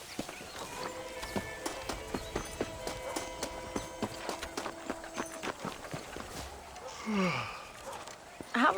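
Horse hooves clip-clop at a steady walking rhythm in a Red Dead Redemption scene, moderately close, followed by a brief snort and other sounds near the end.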